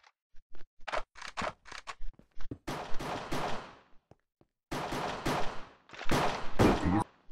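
Gunshots in a Minecraft CS:GO pistol round, a series of sharp separate shots followed by longer bursts of rapid fire, close and fairly loud with silent gaps between.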